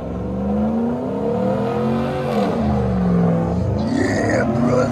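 A truck engine revs with rising and falling pitch, a steady, fairly loud mechanical drone building over several seconds with no talk.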